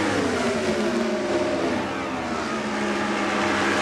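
IRL race cars at Charlotte in 1997 scream past at speed, a loud continuous engine roar with shifting harmonic pitch as they stay wound up, filling the whole moment without talk.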